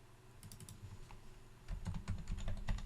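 Keys on a computer keyboard are pressed for a copy and paste shortcut, giving a few soft clicks followed by a brief cluster of closer, firmer taps, with no talk.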